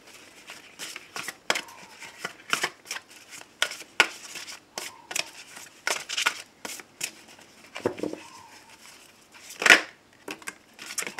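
Cards shuffled for a Sunday tarot-style reading, a run of dry riffling and rubbing bursts at an irregular quick rhythm, close and moderately loud, with one sharper snap near the end and no talking.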